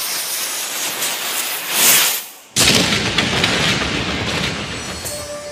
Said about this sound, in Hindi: घबराए अंग्रेजों ने तोप चलाने का इशारा किया।